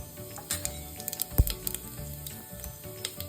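Ginger and curry leaves with pepper and cumin frying in oil in a pan, a close, steady sizzle broken by small crackles and pops, one sharp louder pop near the middle.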